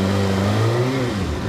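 A 2025 Kawasaki Ninja ZX6R inline-four engine revs up close and loud, its pitch rising and sliding in one smooth, continuous sweep over a second and a half with no talk.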